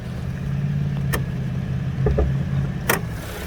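A 2021 Cadillac XT6 with a V6 engine runs at a steady low idle inside the cabin, a constant near hum with a couple of faint clicks and thumps over it.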